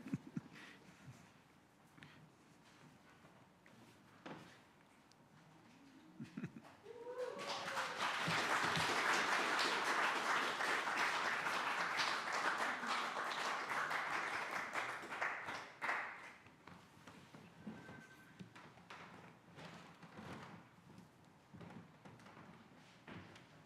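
Applause from an audience at an ordination service swells into a dense, sustained clapping for about eight seconds, then fades back to quiet room sounds.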